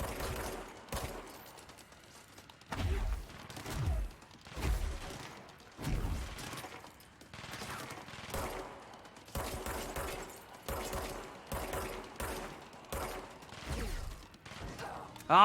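Enemy gunfire in the video game Control bursts out in rapid, repeated volleys with short gaps between them, loud and close, with mechanical clatter mixed in.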